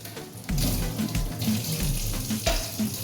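Tap water runs over a glass being rinsed in a kitchen sink, a steady close splashing stream with brief changes as the glass is turned under the flow.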